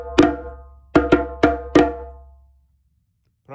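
A djembe plays a short samba break of five sharp, ringing slaps. The pattern runs one hit, a pause, then four quick hits, each one loud and close. The drum then falls silent.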